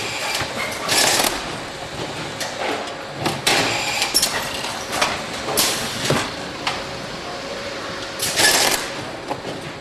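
A carton strapping machine works on cartons moving along a conveyor, giving several loud mechanical bursts and sliding whirs at uneven intervals over a steady industrial background hum.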